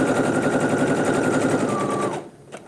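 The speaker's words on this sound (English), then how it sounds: "we're sewing with a 5/8 seam allowance here" A sewing machine runs a fast, even stitching rattle along a 5/8 inch seam, loud and close, then stops abruptly near the end.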